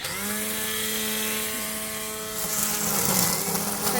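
A steady engine drone with a strong harmonic hum runs throughout, rising a little toward the end like a lawn mower working close by.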